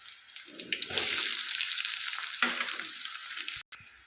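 Onions fry with green chillies and cumin in hot oil in a pan, giving a steady close sizzle with a few stirring scrapes and a brief dropout near the end, with no talking.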